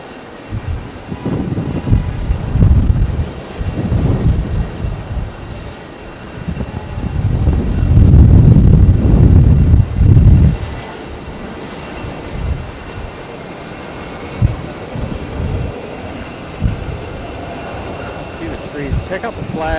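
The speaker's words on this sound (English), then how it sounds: "we have Delta 1407 coming in from Detroit. This one a Boeing 717-200." A Delta Boeing 717-200 jet arriving from Detroit rumbles in on approach at Raleigh-Durham International, the low engine roar building to a loud peak midway and then easing off to a softer drone.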